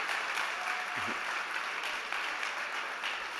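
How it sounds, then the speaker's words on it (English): Sustained audience applause at a startup competition on mobility and smart cities, a broad, even roar of many people clapping throughout, fairly loud, with a brief voice poking through near the middle. "a big round of applause for Tanguy from Xeon."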